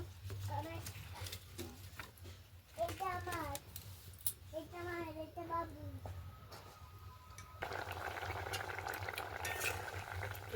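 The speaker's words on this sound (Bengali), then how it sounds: "জলটা ফুটে গেছে, ওলকপিগুলো সিদ্ধ হয়ে গেছে।" Kohlrabi simmers in water in a pot with a soft, steady bubbling, while voices, including a child's, talk over it nearby.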